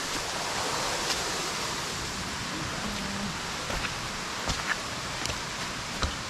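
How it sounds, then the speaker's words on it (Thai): A steady, broad rush of a waterfall deep in a forest fills the air, constant and enveloping, with occasional faint clicks. "น้ำตกสวยมากนะพี่เพื่อน"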